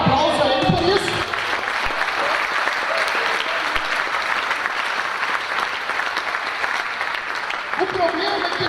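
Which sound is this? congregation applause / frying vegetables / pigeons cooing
congregation applause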